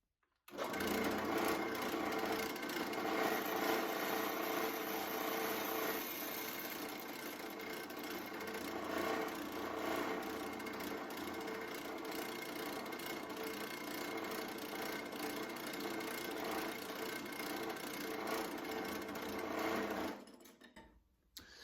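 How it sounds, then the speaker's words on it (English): A power drill running at its slowest speed bores into a Damascus steel knife blank under firm pressure, giving a steady, loud motor whine with grinding that holds for about twenty seconds before cutting off. "I've got the drill on the slowest speed it can go, and I'm putting pretty good pressure on it"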